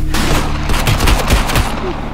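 Gunfire in a sci-fi short film: a loud, rapid burst of shots hammering out one after another for about two seconds, close and dense, over a steady background roar.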